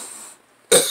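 A single sharp cough bursts out near the end after a brief hush, loud and close, following a soft stretch of room noise.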